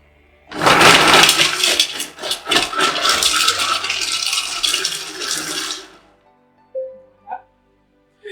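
A Moulinex Companion Touch food processor runs at speed 6 making a veloute of butternut squash with Morteau sausage: a loud, churning whir lasts about six seconds and then cuts off, leaving a few small clicks.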